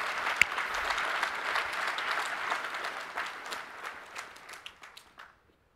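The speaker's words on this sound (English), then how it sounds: "This is your cue to clap, by the way." Audience clapping at a Kubernetes keynote talk, a broad crowd applause that holds steady, then thins into scattered claps and fades out near the end.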